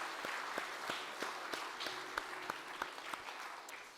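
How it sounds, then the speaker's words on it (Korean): A church congregation at Sunday service applauds to welcome two returning members: dense, steady clapping from many hands filling the room, moderately distant, with no speech over it. "여러분 모두가 오랜만에 나온 우리 두 자매님들에게 뜨거운 환영의 박수 한번 해드립시다."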